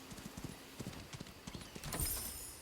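A horse's hooves clip-clop at a steady walking rhythm in the video game Where Winds Meet, fairly quiet, with a soft whoosh near the end and no speech.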